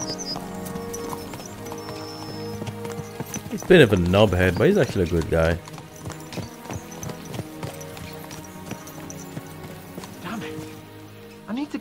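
Horses ridden at a steady clip-clop of hooves, heard under music with people talking over it in the middle stretch.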